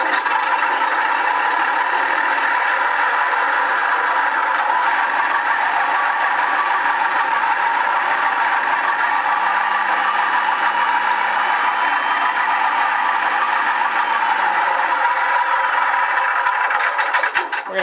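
An engine runs steadily for the whole stretch, a constant droning whir with a faint rattle, fairly loud and unbroken, with no voices.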